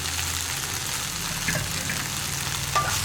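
Boiled carrot and raw plantain stir-fried over a high flame for a Kerala mezhukkupuratti: a steady, moderately loud sizzle runs throughout, with faint stirring scrapes and no voices.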